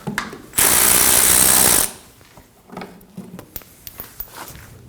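A power tool whirs loudly for just over a second while a 10mm bolt is backed out of a Ford Edge washer reservoir, followed by quieter clicks and handling taps.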